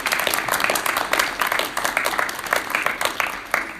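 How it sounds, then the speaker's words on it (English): Small audience at a pinball show applauding, with sparse, distinct hand claps close by and a lively, uneven rhythm throughout. "Can we have another round of applause for them?"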